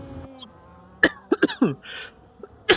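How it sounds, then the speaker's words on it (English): A live race commentator coughs several times in quick, sharp bursts close to the microphone, with a quiet game sound bed behind and a final cough near the end. "Excuse my coughing there."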